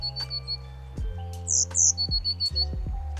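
High, thin blue tit calls and a pair of brighter chirps sound over a low steady hum and soft clicks.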